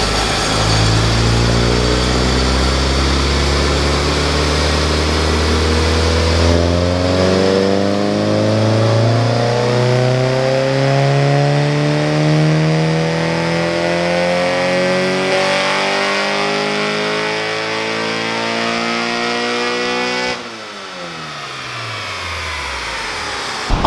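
A Honda Integra with a swapped B18C5 engine revs hard on a dyno during tuning, its pitch climbing steadily in long loud pulls before cutting off abruptly near the end, with no voices over it.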